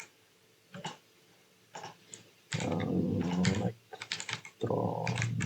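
Typing on a computer keyboard while entering item data into a form: scattered single keystrokes at first, then dense, rapid clacking bursts with brief gaps, close and fairly quiet, with no talking.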